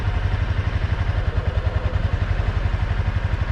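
A Honda CBR300 motorcycle creeps along on the clutch, its engine thumping in a fast, even low pulse at near-idle, close and loud, with a faint clatter and no voices.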